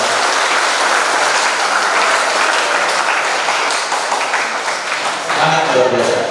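Loud, sustained applause from an indoor audience at a youth organisation chair's inauguration ceremony, dense clapping that fills the room for several seconds and dips slightly near the end.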